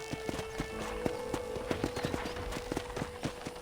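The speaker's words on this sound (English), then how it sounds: "I picked out a fine horse for you. Come on, boy." Horse hooves clip-clop at a steady walking rhythm in the Red Dead Redemption video game, many even, close strikes under a faint background hum.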